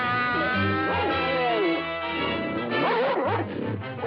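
A cartoon dog barks and whimpers in a loud, animated scene with music and sliding whistle-like tones, the yips coming in short bursts against the busy score.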